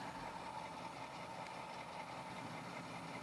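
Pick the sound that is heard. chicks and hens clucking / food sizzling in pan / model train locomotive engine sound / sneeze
model train locomotive engine sound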